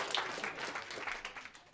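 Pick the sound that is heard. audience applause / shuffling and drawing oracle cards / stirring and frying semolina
audience applause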